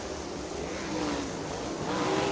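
USAC AMSOIL National Sprint Cars roar around the dirt oval at Terre Haute Action Track, a steady high-revving engine drone with rising pitch as the cars power down the straightaway, loud and continuous.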